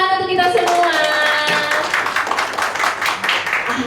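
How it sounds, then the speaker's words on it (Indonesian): An audience claps in brisk, dense applause at a book launch event, rising after a brief voiced moment at the start and continuing strongly to the end. "Tepuk tangan untuk kita semua."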